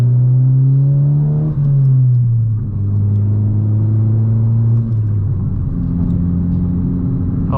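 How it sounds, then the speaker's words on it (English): A 2018 Honda Civic Si fitted with a big Garrett GTX2860R turbo kit, engine droning loud and close as it pulls, revs rising, dipping with gear changes and climbing again, with the turbo building boost underneath. "Turbo spool."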